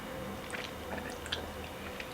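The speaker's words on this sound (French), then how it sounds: "Je vais goûter un petit gnocchi." Someone chews a gnocchi from a soup of soft carrots, with quiet, close, moist mouth sounds and small squishy bites scattered across a short stretch.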